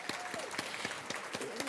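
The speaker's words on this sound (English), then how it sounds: "Please stand so we can give you a round of applause." Conference audience applause, light and fairly faint, with scattered distinct claps over under two seconds.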